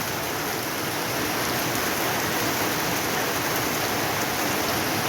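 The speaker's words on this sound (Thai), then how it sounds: "แม่บ้านก็เอาภาพบรรยากาศฝนตกมาฝากเพื่อนๆเนาะค่ะ" Steady, dense rain pouring down, a constant hiss of drops hitting surfaces with no pauses and no voices.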